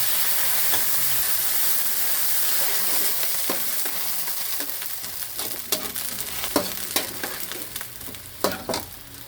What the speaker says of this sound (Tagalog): Gisa-gisa lang ng ganyan, gisa-gisa lang muna tayo.